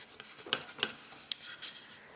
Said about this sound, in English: Steel wool will really rub off any rust spots that you have.